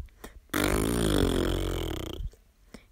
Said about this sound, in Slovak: Myslíte si, že prdím dosť nahlas?